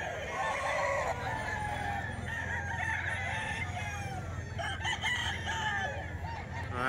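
A bullstag rooster at a fowl sale crows and clucks under background chatter and general outdoor noise, moderately close but not loud.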